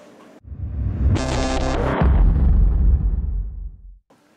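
A booming explosion erupts after a brief pause, a loud sustained blast with crackling bursts layered over a deep rumble that slowly fades out over about three seconds.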